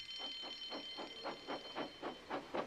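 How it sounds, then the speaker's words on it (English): A steam-style train from a Thomas the Tank Engine remake chuffs along at speed, a regular series of puffing bursts under a sustained whistle-like tone. "The breakdown train, quickly!"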